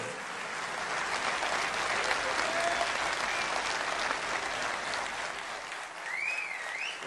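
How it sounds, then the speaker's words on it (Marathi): Sustained, dense audience applause after a speech at a pharmacists' gathering, loud and steady throughout with no break, thinning slightly toward the end. "विजयजी, या टाळ्या थांबत नाही आहेत"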